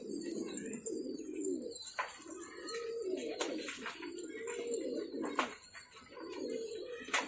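Soft, repeated coos from a desi pigeon sound close by in a low, warbling rhythm, with faint chirps and clicks in the background.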